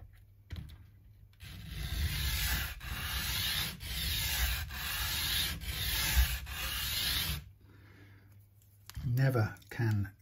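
Rhythmic back-and-forth sanding strokes on a plastic model kit part, rubbed flat against an abrasive surface; steady, close scraping for several seconds, then a short burst of voice at the end.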